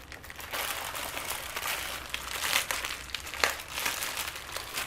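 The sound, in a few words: opening a bag of cables and keys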